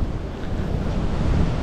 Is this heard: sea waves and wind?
yes